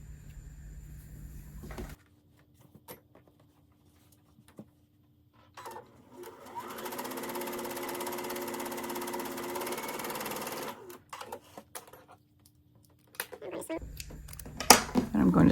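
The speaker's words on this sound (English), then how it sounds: "So I'm going to sew this green square here" Sewing machine stitching green quilt block squares, a steady mechanical whirr running for about four seconds, bracketed by quiet handling noises and short bursts of fabric rustle.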